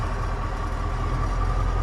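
A farm tractor engine running steadily right after starting, a continuous low rumbling idle with a faint tonal hum, close and unchanging throughout.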